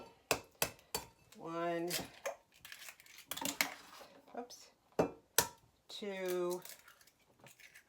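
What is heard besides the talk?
eggs being cracked into a bowl of milk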